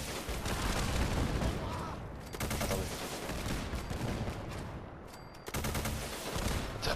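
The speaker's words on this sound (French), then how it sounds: "Ça tire déjà des missiles et ça se disperse ensuite après." Modded weapon in Fallout 4 firing missiles that scatter into small grenade-like explosions: dense, continuous rapid gunfire and blasts fill the whole stretch, loud and close, with a brief dip near the end before the barrage resumes.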